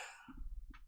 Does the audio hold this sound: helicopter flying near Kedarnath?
no